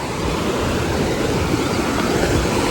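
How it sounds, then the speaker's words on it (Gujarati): Flowing water at Jamjir waterfall in Gujarat, a steady, loud broadband rush of water over washed rocks that stays even and unbroken throughout, heard close with no voices. "આનો ખાલી તમે અવાજ સાંભળો એકદમ વહેતું પાણી છે"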